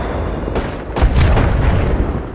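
Heavy Wingman pistol gunshots in a Titanfall 2 Attrition match boom close and loud, a few sharp reports in quick succession over constant low rumble.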